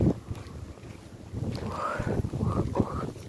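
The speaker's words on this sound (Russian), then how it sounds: "Ветер." Outdoor wind rushes steadily past the microphone on a snowless winter day near the Volga, with faint scattered rustles and a few brief creaks, and no one speaking.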